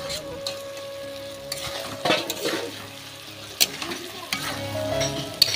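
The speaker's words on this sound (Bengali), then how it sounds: "মাছগুলো দেওয়ার পর আমি মাছগুলো দিয়ে মশলাটা দিয়ে ভালো করে আরেকটু কষিয়ে নেব" Fish pieces stir-fried with spice masala in a pan, a steady close sizzle broken by repeated scrapes and clinks of a utensil against the pan, with no one speaking.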